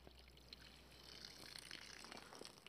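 Water runs from a hose tap into a container outdoors, a faint, steady trickling and pouring with small splashes, heard alone.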